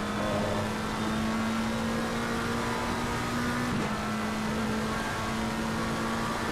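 A McLaren race car lapping the Spa circuit in a racing game, its engine holding a steady droning tone with a brief shift in pitch partway through, loud and continuous.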